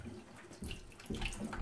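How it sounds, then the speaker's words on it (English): Water drains from a Potterton 28HE combi boiler into bowls during a diverter valve replacement, a soft, faint trickling and splashing heard close by with no talking. "Okay, drain a bit more."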